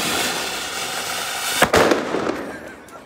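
A Diwali firecracker bomb bursts with one sharp, loud bang midway, followed by a brief crackling tail, over a steady hiss of background noise; no talk is heard during it.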